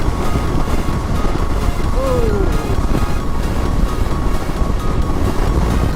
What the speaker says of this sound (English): Oh, that's a side wind.